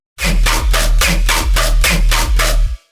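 A loud, heavy Riddim synth bass with a deep sub growl and a metallic, wobbling top, pulsing in quick rhythmic chops before cutting off.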